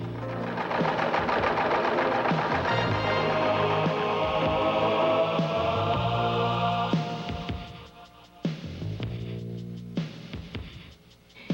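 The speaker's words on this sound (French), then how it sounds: "Coudre lentement jusqu'à ce que l'aiguille dévie à gauche." A Brother VX1010 sewing machine stitches slowly along a garment edge, its steady mechanical whir running continuously and close, then breaking into short stop-and-start bursts toward the end.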